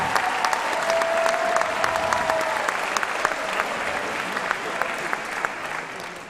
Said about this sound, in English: So if we give a big, big round of applause to both of those individuals for help on that.